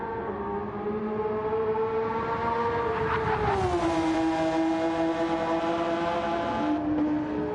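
A Gr-3 race car in Gran Turismo during a 100-mile online race, its engine a high, buzzing whine that climbs and dips with gear changes, loud and close throughout with no talk over it.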